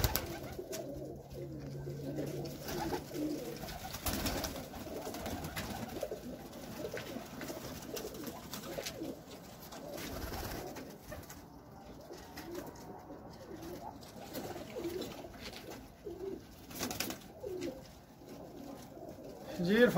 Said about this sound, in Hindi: बहुत ही माशाल्लाह परवाज़ी कबूतर है।